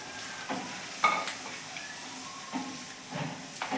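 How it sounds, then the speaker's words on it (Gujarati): Yogurt masala being stirred into onions in a pan over a high flame, a steady sizzle with several louder scraping stirs spaced through it, no talking. "આને આપણે થોડી વાર હલાવવાનું છે ફાસ્ટ ગેસે, એટલે આપણું દહીં અહીંયા ચડી જાય ડુંગળીની જોડે"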